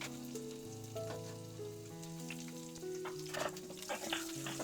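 Garlic, ginger and curry leaves fry in a pan for an egg roast, giving a steady close sizzle with crackles and small pops, while tonal music plays over it throughout.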